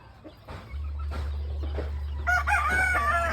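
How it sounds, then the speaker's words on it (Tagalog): A flock of chickens clucks nearby, then a rooster crows loudly near the end over a steady low hum. "Ang daming manok na kuya."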